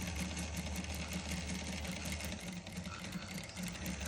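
A domestic sewing machine stitches a saree blouse seam at a slant, its motor whirring steadily with a fast, even needle hum throughout, close and uninterrupted.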